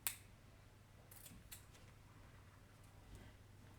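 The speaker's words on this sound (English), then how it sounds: "I'm going to just take and cut small strips of this ribbon." Scissors snip through small strips of ribbon for a paper collage, giving a few faint, sharp cuts spaced irregularly over a quiet background with no talking.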